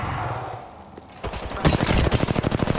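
Automatic weapon fire in the shooter Apex Legends on Nintendo Switch: after a quieter lead-in, a loud, fast string of close shots rattles on steadily to the end.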